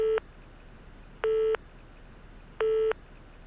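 A telephone ringback tone sounds while a call is placed: three identical clean electronic beeps, each lasting about a third of a second and spaced just over a second apart, quiet and alone with no talk.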